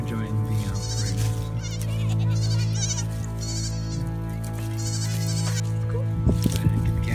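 Goats bleating at close range on a farm, including a baby goat, with several wavering cries over a steady background hum and a person talking in between.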